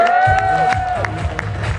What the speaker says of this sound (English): Let's give Peha a big round of applause.